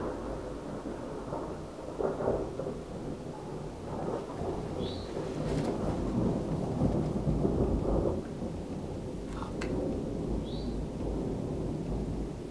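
Thunder rumbles through a thunderstorm amid steady rain, deep rolling swells rising and falling over about twelve seconds, with a couple of faint chirps on top and no voices.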